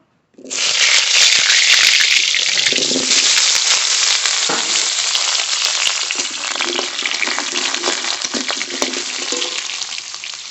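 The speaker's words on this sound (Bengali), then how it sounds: "ভালো করে আলু ভেজে নেব" Cut potatoes sizzle loudly in hot mustard oil in a wok, the hiss bursting in abruptly and then holding steady and close. Occasional stirring scrapes sound under the frying.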